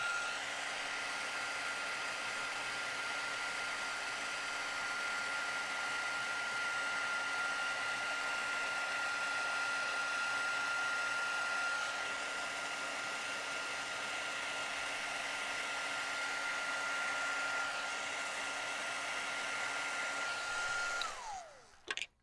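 A heat tool for heat embossing a card blows a continuous steady whirring rush with a faint high whine for about twenty seconds, close and loud, then winds down abruptly at the end; no one speaks.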